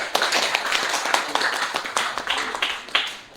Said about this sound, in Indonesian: kita beri tepuk tangan untuk kelompok satu